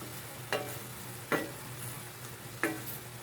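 Ginisang toge, bean sprouts frying in a pan, stirred with three distinct scraping strokes over a steady close sizzle, with no talking.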